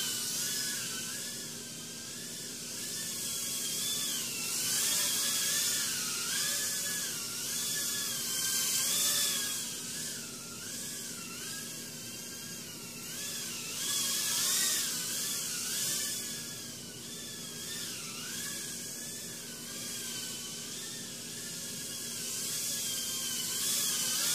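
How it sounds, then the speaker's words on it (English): Whining buzz of the Rakonheli 1S Delrin Carbon 66mm brushless whoop drone, with Raystar 703 15,000 kV motors and 25mm props, wavering in pitch as the throttle shifts, steady and fairly close throughout with no talk. "Today we're going to take a look at the Rakonheli 1S Delrin Carbon Brushless Whoop."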